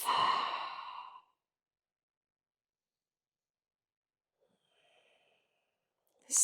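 One soft, audible exhale from a person holding a standing forward fold in a vinyasa yoga session, followed by near silence, a faint breath and the start of another breath at the end.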